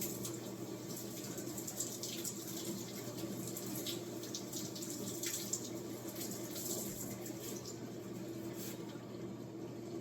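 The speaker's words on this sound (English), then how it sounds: "let's get the green onion washed and prepared" Green onions being washed under a running kitchen tap, a steady, moderately quiet stream of water with light splashing throughout and no speech.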